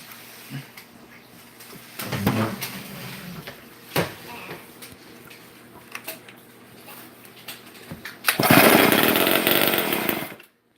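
An old Homelite chainsaw that is being repaired: a few clunks and handling knocks come first, then the engine roars loudly for about two seconds before abruptly dying.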